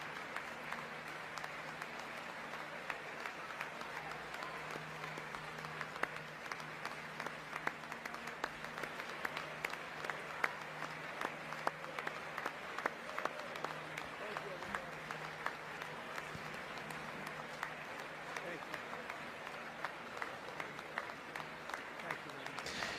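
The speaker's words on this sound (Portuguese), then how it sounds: "Os republicanos permanecem de pé aplaudindo." Republican members of Congress stand and applaud at a presidential address, a steady wash of dense clapping lasting throughout, with a faint murmur of voices underneath.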